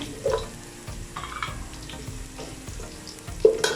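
Keema, minced meat, frying in a pan with intermittent soft sizzling and stirring scrapes, quiet and close with brief clatters, no voices.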